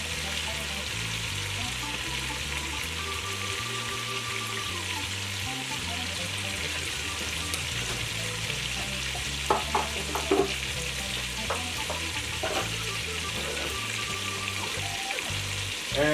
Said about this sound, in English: we just wanna let our meat brown